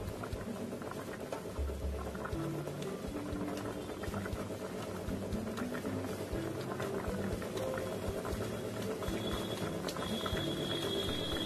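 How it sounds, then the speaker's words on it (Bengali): Rohu fish belly pieces boil in a pot of water on a gas stove, a steady, dense bubbling and churning that holds constant from start to end, with no voices. "রুই মাছের পেটিগুলো আমি খুব ভালো করে সেদ্ধ করে নেব"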